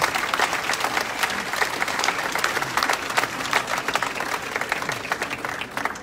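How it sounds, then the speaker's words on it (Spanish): A hall audience at a Chiapas, Mexico ceremony for state notaries and a signing of an agreement gives sustained, full applause, thick and even throughout with no voice over it. "Fuerte aplauso para cada uno de ellos."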